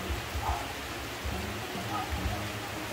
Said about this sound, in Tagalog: So, malakas yung ulan.